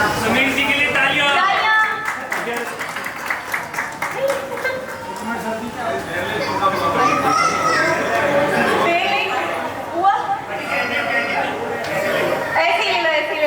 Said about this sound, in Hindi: सुनील जी के लिए तालियां।